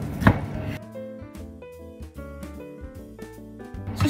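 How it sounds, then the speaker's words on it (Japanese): A kitchen knife chops through block bacon on a cutting board in about 5 mm slices, giving a couple of distinct thuds at the start and end, with soft background music playing between them. "そしたらベーコンも切っておきます。"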